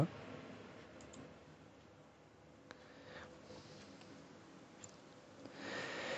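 Computer mouse clicks on a desk, a few faint sharp taps spaced out over a quiet room hum, with a slightly louder burst of noise near the end.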